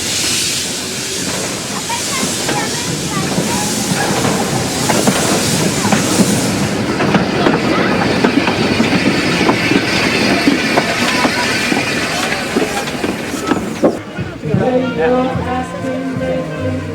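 A steam locomotive, Barber, rumbles and clatters close by with hissing steam as it enters a station, and then lively jazz band brass music takes over near the end.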